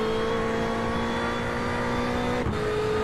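GT4 race cars, including a Porsche Cayman GT4 and a BMW M4, drone steadily at high revs in a virtual Sebring 12-hour esports race, with a brief dip near the end like a gear change.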